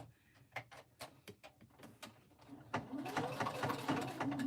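A sewing machine stitches pink baby quilt blocks in a Silver Star pattern, starting with scattered clicks and handling knocks before the motor runs in a steady, close, continuous whir through thick seams.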